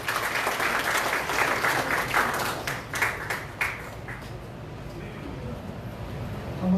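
An audience claps at a Korean political party ceremony marking a provincial chairman's inauguration, sustained moderate applause that fades toward the end as the room quiets.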